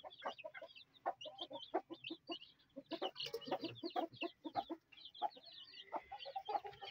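Gold partridge Brahma hens and chicks cluck and cheep in quick, busy bursts, close by and fairly quiet, with high peeping calls scattered throughout.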